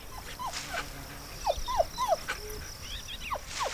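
Dogs near a fighting bull give a string of short, sharp yelps and whimpers, some close and loud, over a rough outdoor background.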